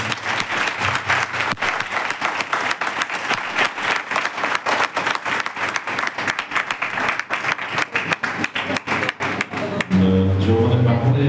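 A church congregation claps loudly and rapidly in praise, sustained fast clapping, then voices rise over it near the end.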